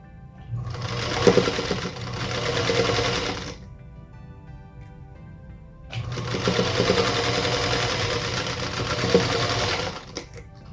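Sewing machine stitching hourglass quilt block pieces to the outside of a star block, running in two sustained bursts of steady whirring with a quiet pause between them.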